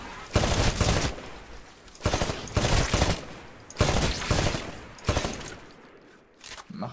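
Gunfire from weapons on a shooting range in the Titanfall video game, loud bursts of rapid automatic fire in four or five repeated volleys with short gaps between them.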